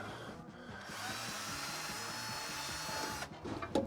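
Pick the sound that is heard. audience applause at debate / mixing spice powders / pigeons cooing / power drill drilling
power drill drilling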